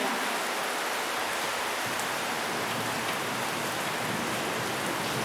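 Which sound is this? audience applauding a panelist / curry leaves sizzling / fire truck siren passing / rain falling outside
rain falling outside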